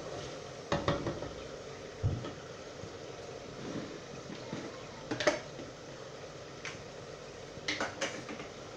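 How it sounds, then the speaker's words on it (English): A spoon stirs a pot of mackerel stew, scattered scraping and clinking strokes over a low cooking hiss, quiet and close, without speech. "Still give it a stir."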